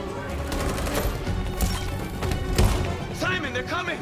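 Heavy gunfire in Detroit: Become Human, dense crackling bursts of shots and impacts that run continuously and loudly under game sound throughout.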